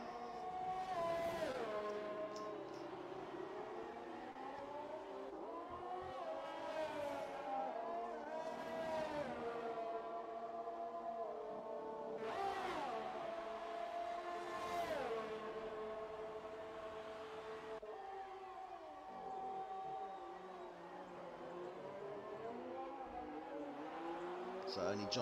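A Formula 1-style race car in a racing game screams past on track, its engine note rising and falling through repeated gear shifts over about twenty-five seconds, with commentators talking over it.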